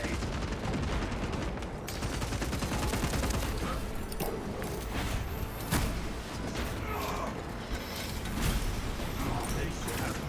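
A crack grenade goes off amid dense Space Marine video game combat, with a wash of rapid gunfire, mechanical clanks and bursts packed together loudly throughout.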